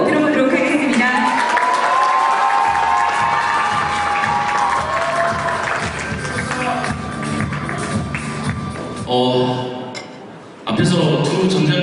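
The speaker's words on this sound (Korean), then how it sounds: "큰 박수로 들어보도록 하겠습니다" Crowd at a year-end company convention for a telecom retailer clapping and cheering over loud music with melodic lines, the applause swelling and dropping, a brief dip and sharp return near the end, and voices audible in the mix.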